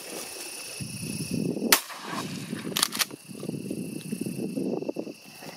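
A shotgun fires during a public land youth duck hunt in Nebraska. There are two sharp, loud reports about a second apart, and a faint third crack follows close behind. Steady wind and low outdoor rumble sit underneath, and no one speaks.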